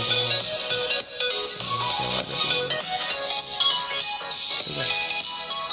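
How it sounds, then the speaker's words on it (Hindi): Music with a melody and beat plays from the small, tinny speaker of a Fire-Boltt BSW004 smartwatch, continuous and fairly loud, with no talking. "इसमें से चल रहा है म्यूजिक जो वाला इसी में चल रहा है आप सुन सकते हो"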